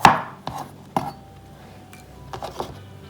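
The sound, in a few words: knife cutting salad ingredient into small blocks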